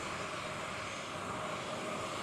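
A commercial airplane arriving at Mopah Airport in Merauke gives off a loud, steady broadband engine roar that fills the short stretch without a break and carries no voices.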